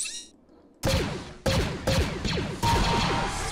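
A Star Wars blaster fired in Garry's Mod, four sharp, loud shots each with a descending zap and ringing tail, spaced unevenly after a brief quiet moment.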